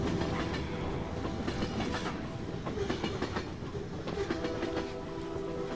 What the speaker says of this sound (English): As you can tell, the train's rhythm has just entered the soundtrack.